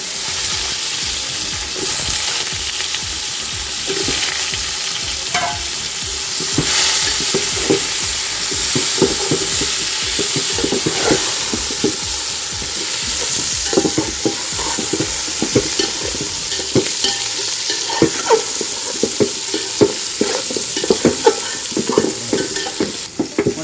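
Fish curry with green chillies and freshly added brinjals being stirred in a pot, a steady close scrape-and-clatter of the spoon repeating over a continuous bright frying sizzle, with no talking.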